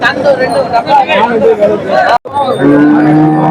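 Cows, including a Jersey cow, at the Punganur cattle market, with a low moo rising near the end over loud, busy crowd chatter and close talk.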